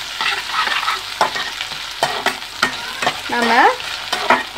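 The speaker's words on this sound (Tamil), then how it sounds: "இது நல்லா 1 நிமிஷம் நல்லா வதங்கணுங்க." Sliced onion sautés in a pan for a capsicum tomato curry, with a steady soft sizzle and repeated scraping stirs of a spoon; a voice speaks briefly over the frying.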